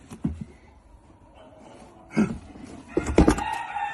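A rooster crows in a few short, bright bursts close by, separated by quiet gaps.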